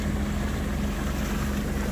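A Rota Fisher 660 motorboat cruises on the Sea of Marmara in foggy weather, its engine giving a loud, steady hum mixed with wind buffeting the microphone and rushing water.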